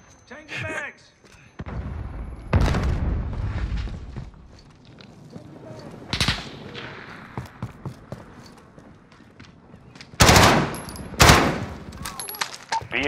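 Grenade blasts and gunfire in Call of Duty: Modern Warfare multiplayer, with several sharp, loud bursts scattered through the stretch between quieter pauses, under radio chatter and shouted callouts.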